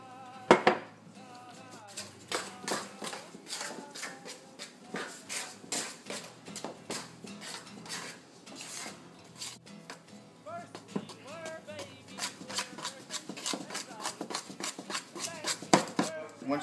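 Batter of soy milk and flour stirred in a bowl for cheddar bread, scraping and clinking of a utensil against the bowl in a steady irregular rhythm, close and moderately loud, with a voice talking over parts of it.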